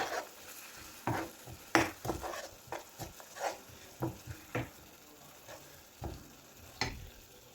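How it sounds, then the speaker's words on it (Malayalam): A spoon stirs sardine curry masala in a pan after tamarind water and salt go in, giving soft scraping strokes over a faint sizzle, close and quiet with a steady irregular rhythm. "ഉപ്പിട്ട് കൊടുത്ത് നമുക്കൊന്ന് ഇളക്കി കൊടുക്കാം."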